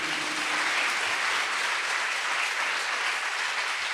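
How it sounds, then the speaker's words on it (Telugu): A church congregation at a Sunday worship service claps loudly and continuously, a dense, steady wash of hand claps with no talking. "ఒకసారి గట్టిగా చప్పట్లు కొట్టండి"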